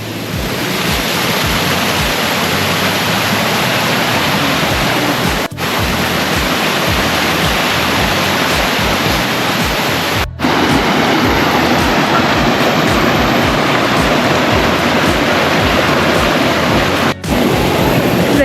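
A waterfall rushing through a rocky gorge near Pattaya, Thailand, a loud, steady roar of falling water that fills the scene without pause, heard up close.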